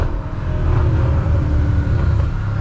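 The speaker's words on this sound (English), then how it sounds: "I'm shifting into really high RPMs." A BMW M6 fitted with a new aftermarket exhaust revs toward high RPM while still cold, giving a deep, continuous engine rumble that swells and wavers close by, with no talking.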